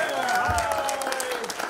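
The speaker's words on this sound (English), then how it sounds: "Can we all say a big hi and a huge round of applause to Lily Mesquita" Wedding reception guests clap for the grandmother in a brief burst of applause, heard under an announcer's voice and music.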